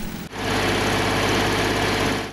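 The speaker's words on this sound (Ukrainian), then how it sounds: "Нині комунальники ріжуть асфальт під майбутні латки." An asphalt cutting machine saws through road asphalt to prepare pothole patches, a loud steady engine drone with grinding that starts abruptly and runs on without pause.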